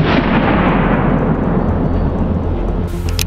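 Firearm loaded with a Brenneke slug fired at a padlock, one loud close blast whose heavy boom decays over about three seconds, with a sharper clatter near the end.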